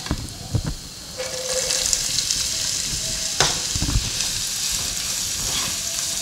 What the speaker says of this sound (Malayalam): ഇപ്പോൾ ലൈറ്റ് ബ്രൗൺ നിറം ആകുമ്പോൾ നമ്മൾ സവാള കൂടി ഇട്ട് കൊടുക്കുക